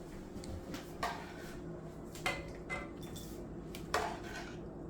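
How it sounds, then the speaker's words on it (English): Cooked shrimp lifted from a pot into a bowl: a few close metallic clinks and scrapes of utensil against cookware, spaced out over a quiet background. "Let's get it out of the pot and put it in the bowl."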